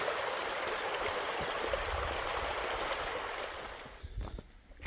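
Mountain water piped down from the hills on Santo Antão, Cape Verde, rushing out under strong pressure: a loud, steady broadband gush that stays close and constant, easing off near the end.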